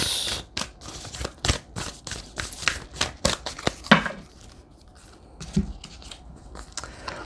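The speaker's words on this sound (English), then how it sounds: "I'm going to shuffle and then pull from the top" A Moonology oracle card deck shuffled by hand, a run of quick crisp riffling snaps and flutters in bursts, close and clear, with softer rustles as the cards settle.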